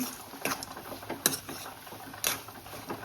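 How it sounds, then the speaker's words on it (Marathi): A spoon clinks and scrapes against a metal pot while desiccated coconut, cashew and almond slivers are stirred into a rice ladoo mixture, sharp irregular taps over a quiet background. "आता हे छान मिक्स करून घेते"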